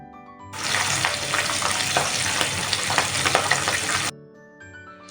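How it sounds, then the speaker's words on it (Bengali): Pabda fish rubbed with salt, turmeric and mustard oil sizzle loudly in hot mustard oil, a dense crackling hiss that starts suddenly, holds steady for several seconds, then stops abruptly. "আমি দুটো ফেজে মাছগুলোকে ভেজে নেবো"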